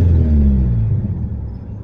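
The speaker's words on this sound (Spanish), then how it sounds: "Si yo le acelero, pues sube la carga del alternador" A 1993 Nissan Tsuru engine with a faulty TPS signal is revved, a loud close rumble whose pitch climbs and then eases back down over under two seconds, with no talking.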